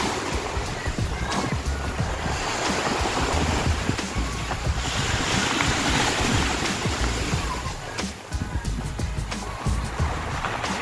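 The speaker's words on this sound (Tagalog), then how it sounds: "Lakas ng hampas ng alon" Heavy ocean surf crashes and roars continuously, mixed with gusty wind buffeting the microphone, loud and close.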